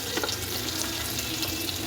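Onion hitting hot oil with turmeric, cumin and chilli, a steady close sizzle and crackle that stays even and unbroken for a couple of seconds, with no talk.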